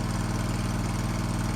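A Miller Trailblazer engine-driven welder runs at a steady, even drone with a low throbbing pulse, loud and close, with no talking.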